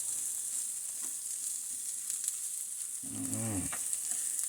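Salted butter sizzles against rice in a hot pan with a steady high frying hiss, close and continuous, with a brief low vocal-like murmur partway through.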